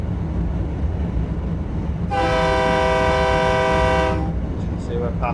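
Train horn of a train running the Northeast Corridor in Train Simulator, a loud sustained two-second blast over steady rumbling rail and engine noise.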